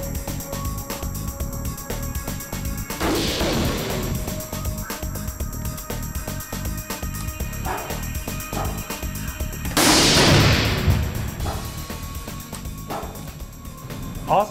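Two .308 rifle shots fired at an indoor range, each a loud sharp blast echoing off the enclosed space, the first near three seconds and the second, louder, near ten seconds, with steady background noise between.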